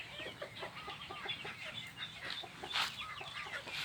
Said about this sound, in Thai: เช้าเช้านี่ให้ไปฟังเสียงเขาขัน